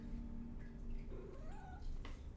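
A pet cat gives a soft, drawn-out meow indoors, quiet and a little distant, with a rising and falling pitch.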